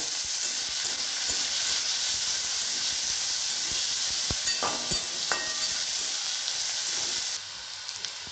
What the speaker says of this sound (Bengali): এবার আমি এর মধ্যে পেঁয়াজ কুচিগুলো দিয়ে দেবো। এগুলো ভালো করে ভাজতে হবে।